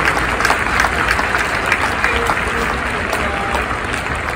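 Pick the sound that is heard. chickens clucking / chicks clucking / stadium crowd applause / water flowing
stadium crowd applause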